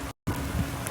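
Hail and rain pour down on open ground in the Al-Hamad area between Qurayyat and Turaif. The steady, dense hiss of falling drops and pellets drops out briefly, then resumes at full strength.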